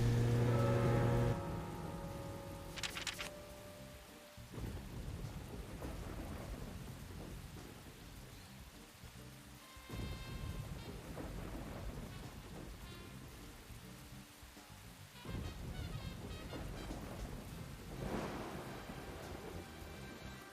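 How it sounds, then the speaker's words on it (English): Rain and thunder in the video game Deadly Premonition: heavy rainfall hisses steadily while low thunder rumbles and rolls in several long swells, with no talking. "hey, it's raining"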